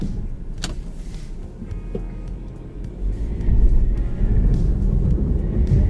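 A 2019 Audi Q3 with all-season tires at full throttle climbing an off-road mountain route, its engine a steady loud low roar that swells toward the end, close and alone without talk.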